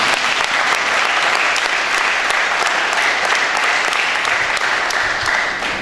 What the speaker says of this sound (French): Acclamez pour Jésus-Christ pour nous.